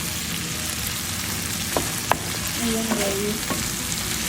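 Chayote sautéing in a pan sizzles steadily with a soft crackling hiss, close and continuous, with a few sharp utensil taps against the pan and a brief spoken aside.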